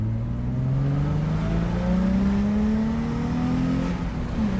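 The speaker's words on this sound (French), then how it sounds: "on va pouvoir profiter du son du moteur, je pense, et puis et des sensations" A car engine accelerates hard along a short straight, its pitch climbing steadily from a low growl for about four seconds before easing off, heard from inside the car at steady loudness with no talk.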